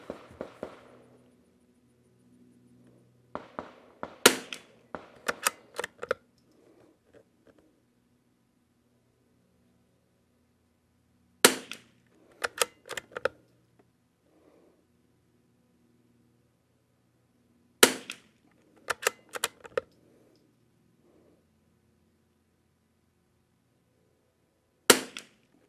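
Five .22 rifle shots from a Lithgow LA101 or CZ 455 with a Walther barrel firing Lapua Center-X ammunition, sharp isolated cracks spaced several seconds apart, some in close pairs, with quiet gaps between.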